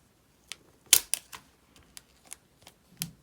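Crisp handling of an iPhone 12 Pro box during unboxing: a scattered run of sharp clicks, taps and cardboard scrapes, close up and fairly quiet, with a louder cluster of rustles near the middle.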